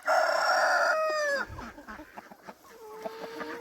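A rooster crows loudly and close on a farm, one long harmonic call, then softer clucks and scattered chicken and farmyard noises follow, with another drawn-out call near the end.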